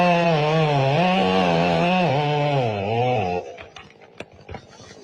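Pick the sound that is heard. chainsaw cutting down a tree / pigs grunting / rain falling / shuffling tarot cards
chainsaw cutting down a tree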